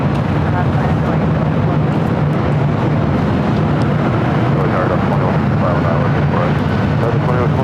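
An airliner rolling for takeoff on runway 24 left at LAX gives a loud, steady engine roar that fills the whole stretch without letup.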